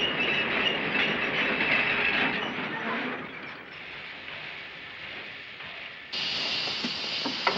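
A train rumbles past with clattering wheels and rail noise, loud at first, easing off in the middle, then swelling again near the end, with no voices over it.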